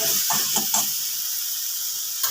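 Tomato, onion and curry leaves sauté in a pan with a steady, close sizzle. A few soft spatula stirs come early, then the frying hiss carries on alone.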